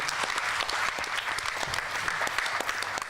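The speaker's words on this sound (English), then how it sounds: "A big round of applause to Dr. Suma Sudhindra" Applause at a Bharatanatyam-style arangetram honoring a veena teacher, Dr. Suma Sudhindra: a dense, steady roar of many hands clapping from a large audience, continuous and loud throughout.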